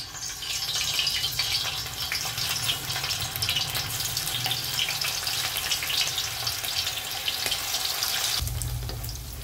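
Paneer cubes frying in hot oil in a kadhai, giving a continuous, even hiss and sizzle that stays loud and steady throughout, with no talking.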